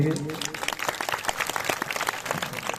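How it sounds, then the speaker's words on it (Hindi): A crowd at a Balaji religious gathering claps enthusiastically in a dense, continuous patter of applause, lively and close, with voices mixed in. "तो एक जोरदार तालियां बजा दीजिए"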